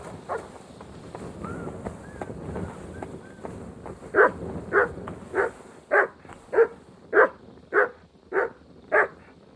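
A dog in Kingdom Come Deliverance 2 barks, starting with scattered softer barks and yelps, then settling into a steady run of about ten loud, evenly spaced barks close by.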